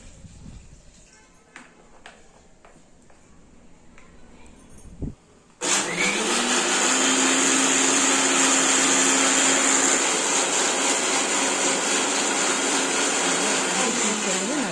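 A mixer grinder blends banana stem with curry leaves and water for juice: quiet room noise with small knocks first, then the motor bursts on loud and roars steadily with a whirring whine until the end.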